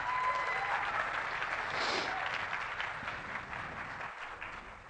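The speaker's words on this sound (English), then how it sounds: "So let's give a big round of applause to ShopUp." Audience applause for the startup ShopUp at a Bangladeshi investment event: dense clapping from a large crowd, loud at first and gradually thinning over a few seconds.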